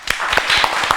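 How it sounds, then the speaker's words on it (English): Audience clapping and applause for a competing team at a Ramadan quiz show in Toronto, a steady patter of many hands through the whole second at moderate loudness. "Give a big clap to them."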